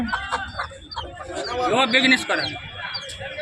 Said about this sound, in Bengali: একটা সাদা কালার দেশি মুরগি আছে